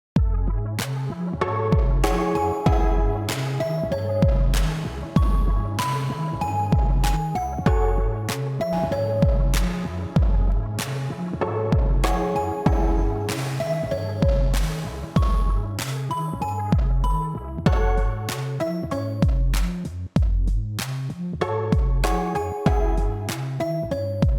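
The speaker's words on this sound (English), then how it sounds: "Now, this is a really cool sounding reverb" A steady looping groove of plucked and keyed tones with a beat, soaked in a dark, grainy lo-fi colored reverb effect that smears the notes together, loud and continuous.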